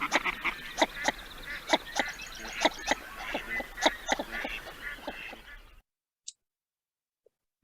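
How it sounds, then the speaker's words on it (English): A northern shoveler duck gives a rapid run of low, repeated suk notes over a dense background of other waterfowl quacking, then cuts off into near silence. "for the northern shoveler, that suk, suk, suk, suk call is rather diagnostic."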